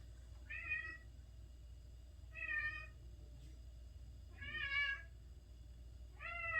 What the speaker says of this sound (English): And my cat is so whiny.